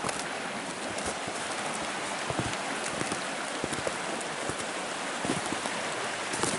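Rain with water falling off trees outdoors, a dense steady patter broken by scattered close drips and taps, continuous and moderately loud with no talk.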